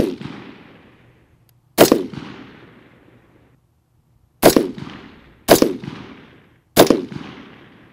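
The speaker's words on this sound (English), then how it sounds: "All right, Cleveland, let's go ahead and put down another 5-shot group." Five loud rifle shots fired as a grouping string while zeroing the weapon, one shot alone, then a pause, then four more at roughly one-second intervals. Each sharp report trails off into a decaying echo.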